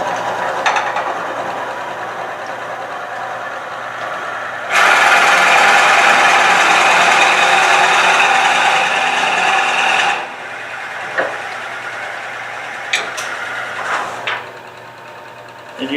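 A loud power drill whines steadily for several seconds boring into wood end grain, then stops, leaving quieter workshop noise with a few brief clicks and short bursts.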